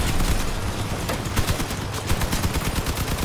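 Dense, continuous gunfire from the vehicle combat game Crossout, shooting at an enemy vehicle's wheels, rattling steadily throughout with rapid overlapping bursts and no talk.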